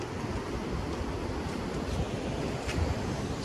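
A river rushes strongly in broad, steady noise, loud and continuous, with wind buffeting the microphone and no voices.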